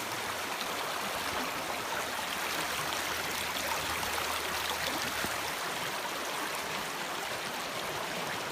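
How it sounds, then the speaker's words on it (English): River rapids rush in a steady broadband roar while someone wades slowly through shallow water on a solo wild camping trip, fairly faint and continuous throughout. "I can hear rapids as I'm walking"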